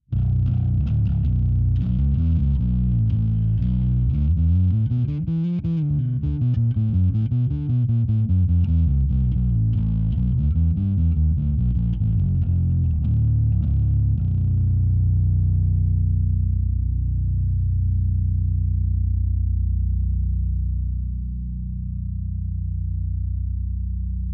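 A bass guitar driven through a Valve Drive pedal with gain turned up for distortion plays a gritty, wavering riff for about fifteen seconds, then a low sustained note rings out and fades, with no talking.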